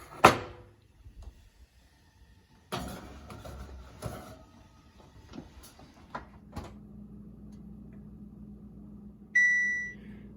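An oven door clunks shut over pans of high-protein cheesecakes going in to bake, joined by a few scattered kitchen knocks and rattles, then a short electronic beep from the oven near the end. Nobody speaks.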